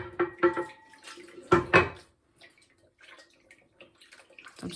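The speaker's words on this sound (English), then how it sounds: "I'm now going to rinse." Running water splashes close by as a face is rinsed of a thermal detox peel, with a few loud bursts at the start, then quieter intermittent trickles and drips.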